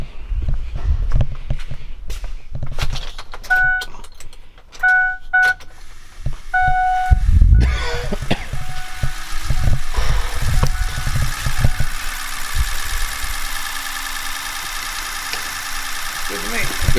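A crew cab truck, sitting unused for six months, gets a few electronic beeps before its engine cranks and catches, then settles into a loud, steady rumbling idle up close.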